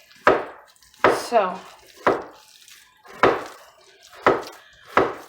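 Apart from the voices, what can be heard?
chopping onions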